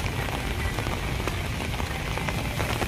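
Steady rain pours down near a harbour bay in Manila, a dense hiss with scattered drops pattering on surfaces throughout, holding at a constant loud level.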